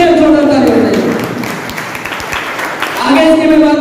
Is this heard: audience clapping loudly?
yes